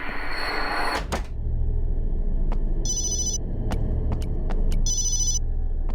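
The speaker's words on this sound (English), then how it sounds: "I should have turned off my cell phone." A cell phone rings in the survival horror game Obscure: two bursts of a bright electronic ringtone cut through a low, rumbling dark ambience, with scattered faint clicks and no talking.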